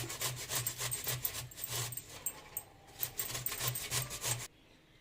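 Raw mango is grated by hand on a large grater, a close, rhythmic rasping scrape in quick repeated strokes, with a brief pause midway before the strokes stop abruptly.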